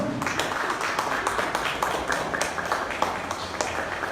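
A church congregation applauding, a dense, steady wash of many hands clapping at once that keeps an even loudness throughout, with no single claps standing apart.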